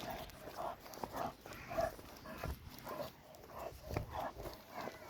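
Dogs scuffle and play nearby with soft growls, yips and shuffling movement, fairly quiet, with a faint voice now and then.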